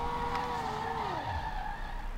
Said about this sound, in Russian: Мне не нравится звук движка